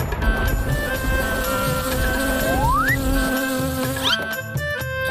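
An animated grasshopper slips from a king's grasp with a steady insect buzz and a rising whistle-like slide, followed by quick cartoon effects near the end.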